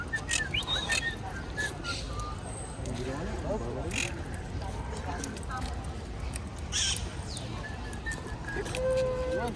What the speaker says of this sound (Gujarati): આ છે આપણા અહીંયા બાર્સેલોનાનું પોપટું.